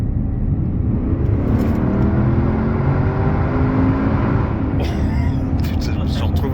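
Porsche Cayenne Turbo phase 2 accelerating hard, a loud, deep engine roar rising steadily in pitch from inside the cabin, with brief talk over it near the end.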